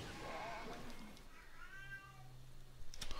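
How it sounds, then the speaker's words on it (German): A house cat meows plaintively indoors while a Diablo 3 game session plays, two drawn-out whiny cries at moderate distance over faint game sounds and low hum. "Und meine Katze jammert wieder."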